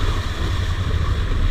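A motorcycle rides through a creek water crossing on a backcountry route, giving a steady low rumble mixed with rushing, churning water and wind over the short stretch.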